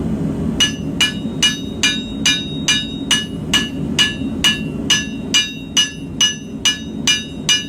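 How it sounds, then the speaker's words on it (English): Steady hammer blows on hot steel while forging the bevel end of a blade, about sixteen evenly spaced ringing strikes, close and loud, over a low background rumble. "I have been hammering one side only"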